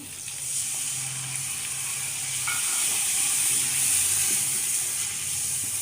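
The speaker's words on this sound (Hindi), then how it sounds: "तो अभी इसमें डालेंगे पानी।" Water is poured into a hot cooking pot, giving a steady broad hiss and sizzle that swells slightly and holds for several seconds, loud and close with no talking.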